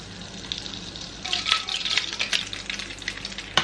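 Butter sizzling in a hot pan for eggs, a soft crackle that swells from quiet to a steady, busy fizz with sharp spits and pops, close and without talk.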